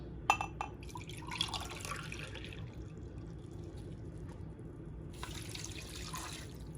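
A cup of water pours into a cooking pot of sweet potatoes and sugar, a light splashing trickle in two bursts separated by a quiet pause, fairly soft and close.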